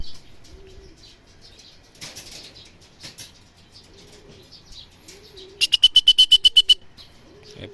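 A burst of rapid racing pigeon wing flaps claps out near the end as birds return to the loft in Tarlac, Philippines, preceded by soft pigeon coos repeating in the background.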